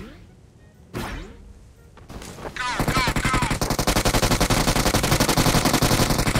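Automatic gunfire from a video game fight rings out after a few scattered shots, building into rapid sustained bursts, loud and close under an excited voice.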